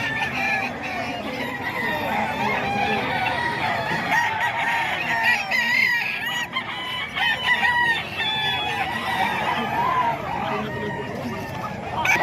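An 11-month-old Thompson White gamefowl stag crows loudly and repeatedly at a busy gamefowl selling spot, its calls standing out over steady crowd babble and other clucking fowl nearby.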